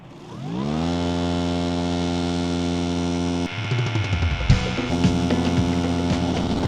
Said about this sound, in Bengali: নয়েজ গাছ কাটা মেশিনের।